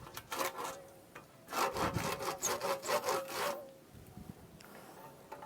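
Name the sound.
hand saw cutting tree branch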